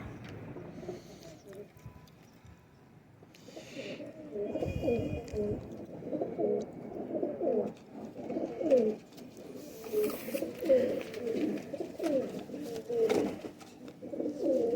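Soft, repeated cooing of a Golden Kasoori pigeon, several throaty calls in a loose rhythm, close by, with a faint voice and light shuffling in the background.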